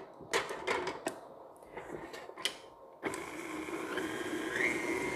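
An electric mixer creams two and a half sticks of unsalted butter until light and fluffy. A few clicks and knocks come first, then a steady whirring drone runs close and constant to the end.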